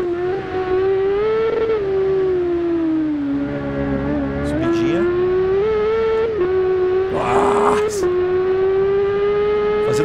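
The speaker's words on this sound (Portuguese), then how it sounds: "Acho que eu ouvi a moto." A high-pitched engine of a Suzuki GSX-R 1000 racing motorcycle drones steadily, its pitch rising and falling as gears shift, loud and continuous nearby.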